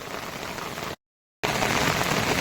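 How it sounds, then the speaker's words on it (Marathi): Heavy rain pours steadily onto a flooded village road, a dense, loud, continuous wash of drops with a brief drop-out mid-way before the downpour resumes. "सकाळपासूनच खूप म्हणजे खूपच जबरदस्त पाऊस चालू आहे"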